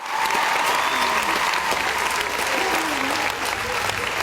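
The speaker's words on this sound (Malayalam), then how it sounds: "കയ്യടിയുടെ ശബ്ദമൊക്കെ വളരെ കുറവാണ്" Audience applause at a stage award event, a continuous dense clapping wash from a crowd, steady and fairly loud for the whole stretch.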